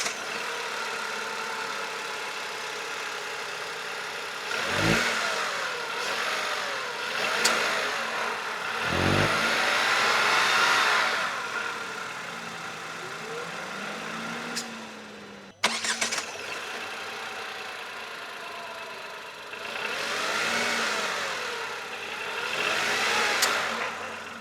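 A Tata Altroz with a three-cylinder engine cranks and starts, then idles and revs several times in rising and falling surges. The engine sounds moderately close, with a sharp knock partway through and no talk.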